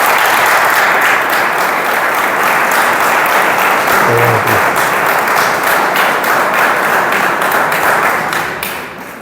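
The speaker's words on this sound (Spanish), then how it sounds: "eso merece un aplauso" Sustained, loud applause from a large crowd at a bullfighting-related event, steady dense clapping that fills the whole stretch before tapering slightly at the end.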